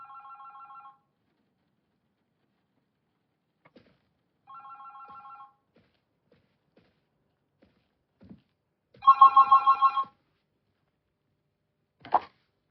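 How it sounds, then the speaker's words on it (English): A telephone rings in The Berlin Apartment video game, with two short electronic bursts early on, then a longer, louder ring near the end followed by a brief click, alone and with no talk over it. "The phone. Ugh, that's all I need right now."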